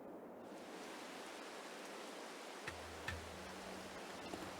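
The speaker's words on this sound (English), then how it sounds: "I hope it don't keep raining." Steady rainfall hisses as a broad, even wash of noise in a farming video game, with a low rumble entering partway through and a couple of faint clicks.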